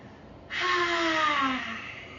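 A single forceful open-mouthed yoga lion's breath exhale with a breathy, slightly voiced roar quality, close and loud, fading out over about two seconds.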